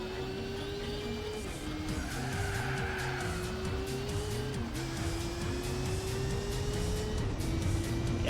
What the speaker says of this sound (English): The car is very loud.